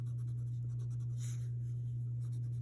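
A marker or pencil draws quick horizontal dashes on paper for a sunset sketch, faint soft scratchy strokes repeating in a light rhythm over a steady low electrical hum.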